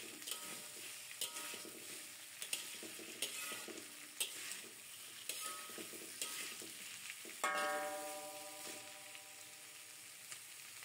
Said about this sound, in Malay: Kacau-kacau dahulu bagi sayur tu sebati dengan bawang dan cili.